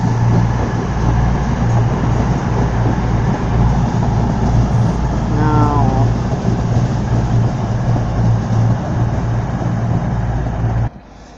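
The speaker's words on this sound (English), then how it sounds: "Next service to arrive in is a cross-country service to London, to Glasgow Central" A Cross Country train, unit 221131, arrives at Darlington station with a loud, steady low rumble and engine drone, a brief rising squeal in the middle and a sudden drop at the end; someone speaks briefly.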